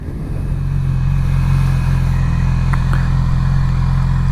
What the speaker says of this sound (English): We're going to slowly let out the clutch, apply a little bit of throttle, release that rear brake slowly as you're giving it throttle